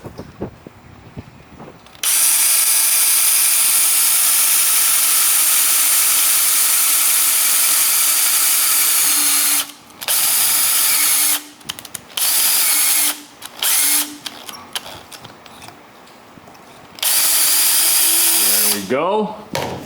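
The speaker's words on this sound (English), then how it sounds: "I'm just going to drill a hole right here to put that cotter pin through." A power drill bores a hole for a cotter pin in a cutter head guard for a Grizzly 8-inch jointer in a workshop, whining loudly in several bursts of varying length separated by short pauses.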